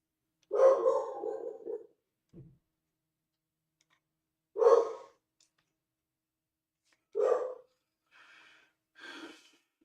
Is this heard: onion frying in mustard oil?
no